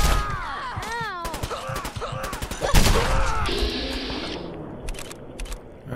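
Gunfire in the game Fallout 4 comes as a rapid cluster of sharp shots, then a heavy blast around midway, followed by sliding tonal effects and scattered later cracks, mixed with groaning game sounds and no speech.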